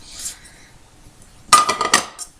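A large metal frying pan clanks and scrapes briefly, with a soft clink early on followed by a louder cluster of rattling knocks close by.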